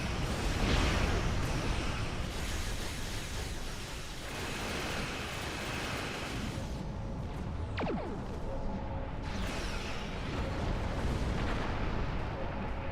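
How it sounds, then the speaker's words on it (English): Starship torpedoes firing in a Star Trek Online space battle, a dense roaring rumble of blasts with a brief descending whistle partway through, loud and sustained throughout. "Alright, torpedoes. Torpedoes out."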